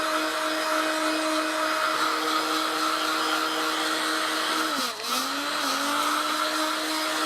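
Heat gun blowing steadily on the crushed foam nose of a Durafly Tundra model plane, a constant close whir with a brief dip in pitch midway as the airflow shifts.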